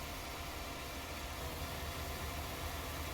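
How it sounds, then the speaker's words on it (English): Demco auger wagon unloading grain in the Farming Simulator 19 game, a steady mechanical engine drone with broadband whirring that holds constant and unbroken throughout, with no voices. "I love how fast these Demco auger wagons unload."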